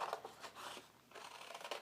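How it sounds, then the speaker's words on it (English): Scissors snip round a drawn outline to cut a paper circle out of card: a quick series of close, crisp snipping cuts, with no voices. "I'm going to get my scissors and cut round to make a circle"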